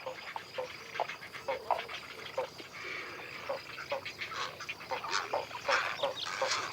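A nesting colony of herons, egrets and spoonbills in old cork oaks in Doñana, with many overlapping croaks, squawks and calls in a steady, busy chorus from birds at mid distance.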